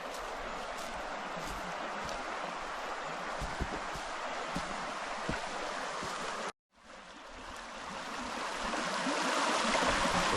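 Steady rushing of a river flowing beside a riverside campsite, broad and continuous with a brief dropout partway before the flow resumes, slightly louder toward the end.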